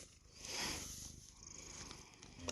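A cat purrs close by in a steady, soft rumbling drone, low in level, with no talking over it.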